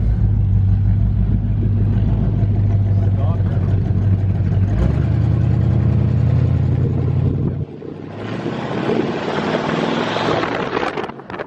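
A Pontiac Catalina's engine drones low and steady while the car drives, then the tone shifts and wind roar rises near the end, with people talking over it.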